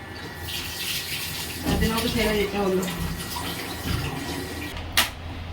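Tap water pours steadily into a bathroom bucket as it fills, a continuous hissing splash with a brief voice partway through and a sharp knock near the end.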